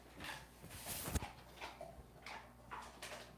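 A pet dog named Doug whimpers and yips in short, quiet bursts close by, restless and excited, with scuffling noises and no speech.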